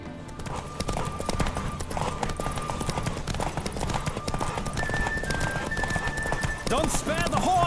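Horses gallop in a race in the video game The Witcher 3: Wild Hunt, a dense rapid drumming of hooves close by, with a whinny and other game sounds near the end.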